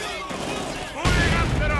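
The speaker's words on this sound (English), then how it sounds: "And now Giap gets even more artillery, another mortar threat to his heavy mortar." Artillery and mortar fire in the video game Company of Heroes 2 rings out in loud, sharp blasts, with a heavy burst of explosions near the end, heard under a commentator's voice.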